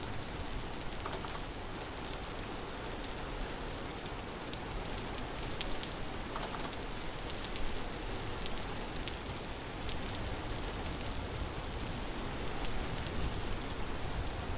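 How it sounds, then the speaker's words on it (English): Steady, dense rain falls continuously in the video game Vintage Story, a loud, even patter of drops with no pauses, no talk, and an unchanging wash throughout. "I shouldn't be hearing the rain in here."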